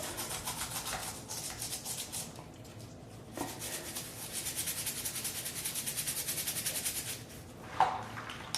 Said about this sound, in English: So just dip it in like that, and then I can scrub a bit, and that will definitely help clean it.